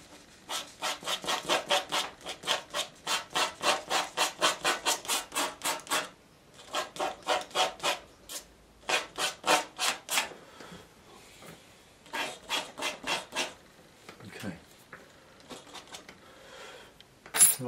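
Dried watercolour paint being scraped off paper on a painting of a rocky stream: close, rapid rhythmic rasping strokes in several bursts with short pauses, and no talk.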